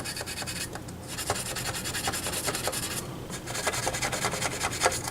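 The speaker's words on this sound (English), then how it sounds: "It's going to go right inside that socket and just scrub away." A dental gum scrubber scrubs inside a socket of a Crosley Playtime grandfather clock, making close, quiet, rapid scratchy rubbing strokes in uneven bursts, with brief pauses between them.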